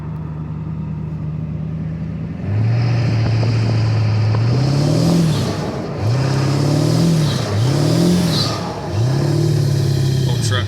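An old truck engine idles low, then revs loudly several times in close, rising-and-falling bursts during a snowy drive with a trailer.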